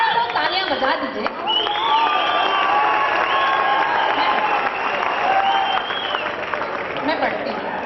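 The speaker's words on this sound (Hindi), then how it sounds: "एक बात सारे लोग तालियां बजा दीजिए" Audience applause and cheering fill a college auditorium during a live poetry and music performance by two performers, steady and loud throughout with crowd chatter and voices mixed in.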